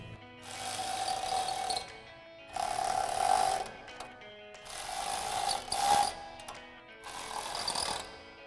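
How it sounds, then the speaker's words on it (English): A ratchet with a 13mm socket snugs down through bolts on a 2021-2024 Ford Bronco nudge bar install: four bursts of rapid, buzzing clicks, each about a second and a half long, with short quiet pauses between, close and fairly loud. "we'll grab our 13mm socket on our ratchet and a 13mm wrench to go ahead and snug these down"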